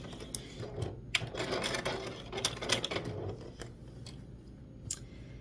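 A sewing machine runs a stay stitch around the edges of a quilt hat band, its needle chattering in rapid bursts that start and stop, close and fairly quiet.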